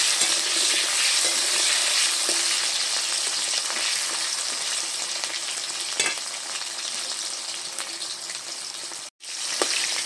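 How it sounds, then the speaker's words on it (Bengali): New potatoes frying in oil make a loud, dense, continuous sizzle with faint stirring clicks throughout, cutting out for a moment near the end. "প্রথমেই দেখো আমি নতুন আলুটাকে ভেজে নিচ্ছি"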